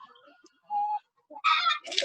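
Chickens peck and cluck over pieces of watermelon, giving short close bursts of clucking and scratchy pecking noise, with quieter gaps between the feeding sounds.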